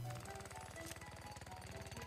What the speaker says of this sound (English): He's using a jackhammer on a cloud.